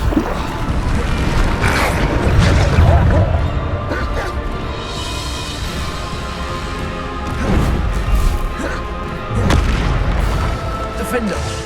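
Bombarda blasting-spell explosions in Hogwarts Legacy, several heavy booms with crashing debris spread across the stretch over rumbling game noise.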